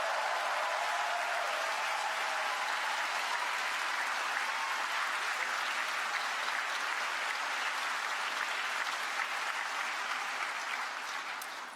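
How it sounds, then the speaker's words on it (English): A large audience at a University of Virginia School of Medicine White Coat Ceremony applauds the class of 2027, a broad, steady wash of clapping that lasts throughout and tapers at the very end. "Please give a round of applause for our class of 2027."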